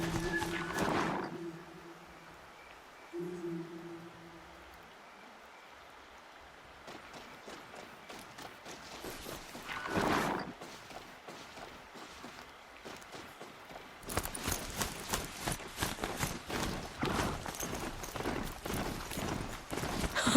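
Galloping hoofbeats of a Strider, a horse-like machine mount in Horizon Zero Dawn, with a neigh-like cry near the start and a steady run of rapid thudding steps that grows louder toward the end.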